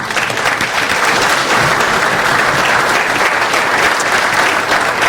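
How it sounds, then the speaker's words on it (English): A breakfast event audience applauds loudly, a dense, continuous wash of many hands clapping at close range that holds steady for the whole stretch without pause. "Give them a round of applause."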